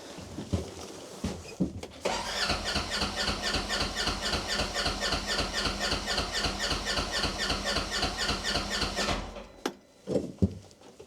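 A UTV-mounted snowblower squeals steadily and revs in a loud rhythmic pulsing drone for about seven seconds, then cuts off into quieter handling sounds.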